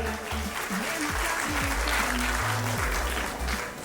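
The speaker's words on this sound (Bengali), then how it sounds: "শিবমের জন্য একটা হাততালি হয়ে যাক।" An audience at an academy's annual day show applauds for Shivam, a steady burst of clapping from a crowd throughout, with faint voices underneath.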